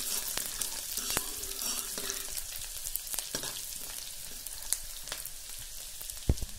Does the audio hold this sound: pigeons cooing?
no